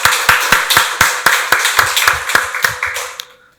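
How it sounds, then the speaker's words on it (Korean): Church congregation clapping together in a Korean Sunday worship service, a dozen or so sharp, fairly loud group claps in a loose rhythm over about three seconds, then fading out. "박수로 하나님께 영광 돌리겠습니다."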